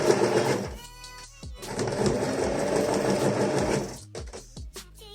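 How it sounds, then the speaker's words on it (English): A sewing machine back-stitches a dress seam, its needle running in a fast, steady near whir that pauses briefly and restarts before stopping with a few clicks. "because you're already sewing a 1 centimeter stitch, you should align with the other stitch as you come back like that, and then back stitch"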